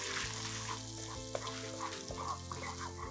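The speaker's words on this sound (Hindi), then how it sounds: "मैं ऐड कर दूंगा जिंजर गार्लिक पेस्ट एक चम्मच भर के। हल्का सा सौते करेंगे 30 सेकंड के लिए" Ginger garlic paste sautéing with cardamom in a pan, a steady low sizzle running throughout with a few faint scrapes of stirring.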